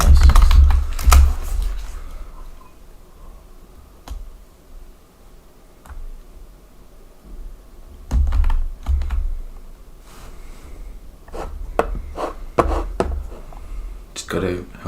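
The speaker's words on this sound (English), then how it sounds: "you can still hear him moving the mouse and typing on the keyboard" Computer keyboard typing and mouse clicks from a streamer's desk, coming in dense clattering bursts separated by quieter gaps, close and clear, with voices talking at times.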